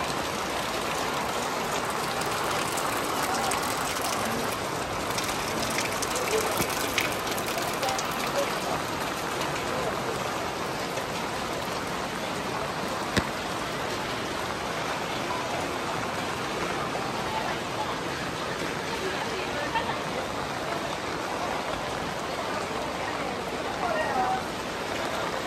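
Steady rain falls on a waterlogged street at a market, a constant loud hiss that lasts throughout, with occasional faint sounds beneath it.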